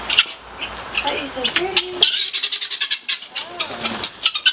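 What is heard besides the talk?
chickens squawking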